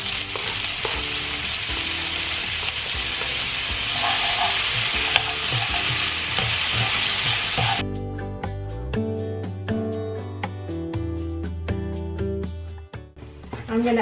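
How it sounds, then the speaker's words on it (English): Onions and garlic fry in melted butter in a pan, a dense close sizzle for about eight seconds with light stirring before it gives way to instrumental music. "Once that's heated up, I'm going to add my onions and garlic."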